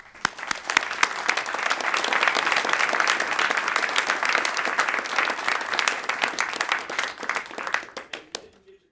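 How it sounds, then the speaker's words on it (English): An audience applauds a space mission team, building quickly into sustained dense clapping that fills the room before thinning out and fading near the end. "Please join me for another round of applause for this incredible mission and team."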